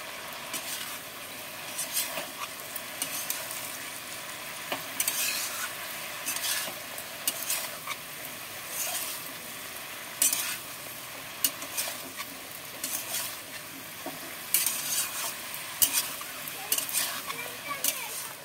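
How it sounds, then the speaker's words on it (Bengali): Pumpkin greens with turmeric being stirred in a frying pan, a steady sizzle under repeated scraping and tossing strokes from a spoon, close and continuous with brief louder clatters. "এবার ভালো করে নেড়ে চেড়ে নেব।"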